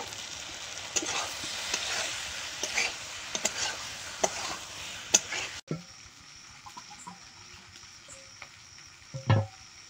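Spiny gourd pieces stir-fry with turmeric and chili powder in a hot pan, a soft steady sizzle broken by scraping spatula strokes and clicks, quieter after a sudden drop midway, with a faint background cluck.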